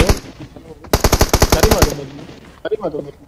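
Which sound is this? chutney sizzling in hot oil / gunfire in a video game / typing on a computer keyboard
gunfire in a video game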